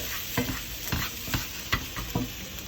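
Onions frying in a pan and being stirred, with a spoon scraping in about five rhythmic strokes over a steady close sizzle.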